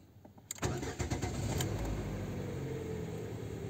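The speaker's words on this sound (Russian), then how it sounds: "Пробуем, запускаем двигатель." A Lada Vesta engine cranks and catches after a fuel filter replacement, with a brief starter whirr followed by a steady, close idle that settles into an even hum with no talk.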